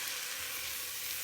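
Cabbage with spices is stirred in an Instant Pot on saute, giving a dense, steady sizzling hiss throughout the brief moment, with no voices.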